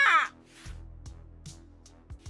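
A bird's harsh caw in the YAGA video game, a single short call at the start followed by a low droning musical backdrop with soft thuds.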